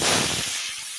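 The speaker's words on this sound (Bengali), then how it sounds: "কাঁচা লঙ্কা দিয়ে ভাজা" Green chilies frying in hot oil with black cumin seeds in a pan, a loud broadband sizzle and hiss that bursts at first and then settles and thins out over about a second, with no voices.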